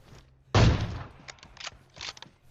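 An AWM sniper rifle fires in the PUBG video game, with one sharp, loud blast followed by softer mechanical clicks and clacks as the bolt is worked.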